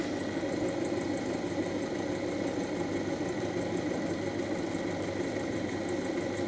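A motor runs steadily through a pulley reduction drive, a continuous even hum with a faint high whine and no change in speed, close by and without talk.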